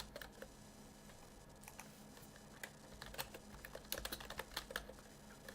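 Quiet, close typing on a computer keyboard as a search term goes into a trading platform's search bar, irregular light key clicks in short bursts that grow busier toward the end, no voices.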